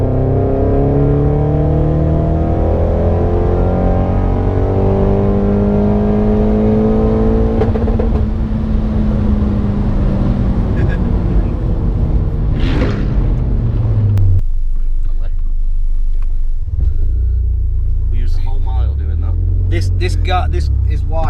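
Remapped Vauxhall Corsa VXR accelerating hard, its engine note rising steadily through the gears with loud, continuous rumble and revving, a gear change near the midpoint, then a lower cruising drone as people talk inside the car.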